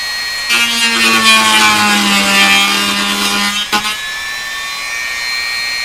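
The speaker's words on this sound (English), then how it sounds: "I didn't have my Dremel going fast enough." Handheld Dremel rotary tool grinding steadily on a record during restoration of a German Korting console receiver, a loud whirring scrape with a sustained tone that runs for about three seconds, then stops abruptly with a brief clatter and fading hiss.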